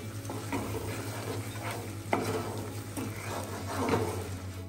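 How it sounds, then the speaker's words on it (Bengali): Spice paste for a Bengali golda chingri (prawn) malai curry is stirred and fried in a pan, giving a steady close sizzle with repeated scraping strokes of the spatula and no talk. "কষিয়ে নিচ্ছি, আবার একটু খানিক্ষণ কষিয়ে দেবো।"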